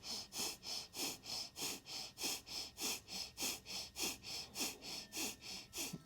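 Rapid, rhythmic breathing during a yoga breathing exercise, about two quick breaths per second sounding close and steady through the nose, with no talk.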